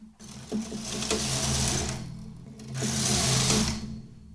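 A knitting machine carriage sweeps across the needle bed twice, each pass a loud whirring, clacking rush lasting about two seconds, with a brief pause between the two rows.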